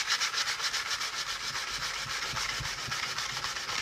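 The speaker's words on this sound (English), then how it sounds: "You can see I'm sanding off my dye," Steady back-and-forth rubbing of wet-or-dry sandpaper smoothing a dyed vinyl (Tolex) covering on a vintage record case, close and continuous with a quick rhythmic scrape and no talking.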